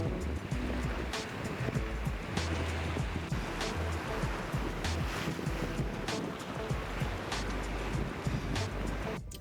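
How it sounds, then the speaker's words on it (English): Strong ocean waves surge onto the shore at a fishing spot, a steady, dense roar of surf with pulsing wash that fills the whole stretch, with no voices. "The waves were just pushing in so strong"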